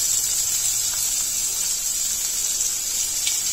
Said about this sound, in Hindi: तो देखिए क्रैकल होने लग गए हैं, तो मैं इसमें अपना कटा हुआ प्याज ऐड कर रही हूँ।